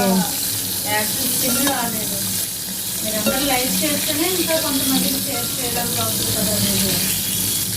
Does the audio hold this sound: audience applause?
no